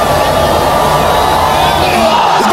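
A packed stadium crowd roars for a cricket wicket as Imran Khan bowls Kapil Dev, a loud continuous wall of cheering and whooping that stays at full intensity throughout.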